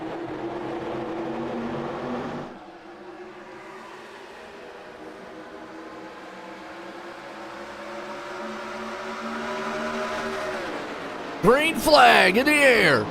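Stock race cars in iRacing roll around Talladega Speedway, their engine drone rising steadily in pitch as the pack gathers speed, then swelling with sharp revving near the end while a commentator talks over it.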